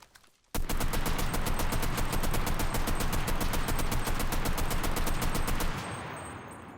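A submachine gun with a 40-round magazine fires one long, steady full-auto burst in the shooter game Enlisted, loud and close, with rapid, evenly spaced shots that end abruptly, leaving a short fading tail.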